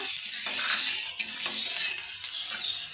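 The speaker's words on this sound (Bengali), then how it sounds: "সরষের তেল দিয়েছি, তেলটাও গরম হয়ে গিয়েছে। পেঁয়াজ কুচি দিয়ে দিলাম। পেঁয়াজটা আমি দু হাতা নেড়ে চেড়ে দেবো।" Chopped onion sizzles steadily in hot mustard oil, with a ladle stirring and scraping through the pan in a continuous close hiss.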